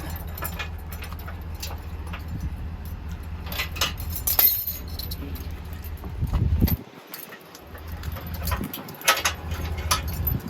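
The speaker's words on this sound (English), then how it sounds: "next we're going to make sure that we get the carabiner detached for the emergency brake cable" A carabiner is unclipped from the emergency brake cable of an Apex Nano 208BHS camper outdoors, with light metallic clinks and jingles over a steady low background rumble.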